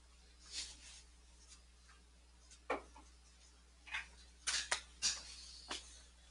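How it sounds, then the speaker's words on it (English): Students in a chemistry class write down notes, with scattered soft scratches and taps of pens or pencils on paper coming in short irregular bursts against a quiet room hum. "I'll let you finish writing those down."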